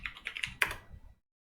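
Keystrokes on a computer keyboard typing a product search, a quick run of about eight distinct clicks over roughly a second, close and clear, followed by silence.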